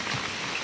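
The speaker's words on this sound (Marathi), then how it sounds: "पावसात छत्री घेऊन उभे. पहिला पाऊस." First rain of the season pattering steadily on surfaces outdoors near an umbrella, a dense, even hiss of drops through a brief moment.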